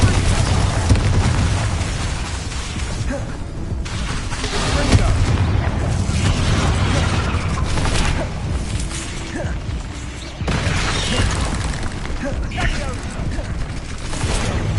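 Repeated Confringo and Bombardo explosion spells in the Hogwarts Legacy video game, a dense run of booming blasts and crackling impacts over heavy low rumble, loud and continuous, with spoken incantations between them.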